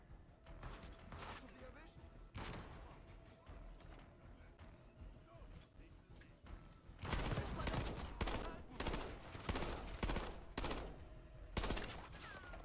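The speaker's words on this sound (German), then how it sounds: "Wo schießen die?" Gunfire in Call of Duty Black Ops 6, with repeated bursts of automatic shots, sparse at first and then dense, rapid volleys later, loud and close, with a voice talking at times.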